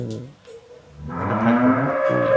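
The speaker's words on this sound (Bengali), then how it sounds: "ভিতরে আমরা আরো গাভী দেখতে পাচ্ছি" A dairy cow on a farm gives a loud, drawn-out moo that swells midway and holds to the end, preceded by a shorter lower call and close animal noise.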